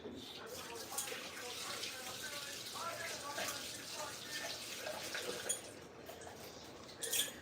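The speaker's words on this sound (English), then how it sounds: "I'm gonna wash my hands" Tap water runs steadily into a kitchen sink as hands are washed beneath it, a continuous close hiss of splashing with small shifts in flow, heard while rice is being prepared for dinner.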